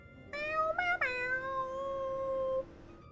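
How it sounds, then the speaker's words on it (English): A single drawn-out meow from a cat in the video game Final Fantasy XIV rises and then holds a long falling tone, clear and close against quiet background hiss. "Meow, meow, meow."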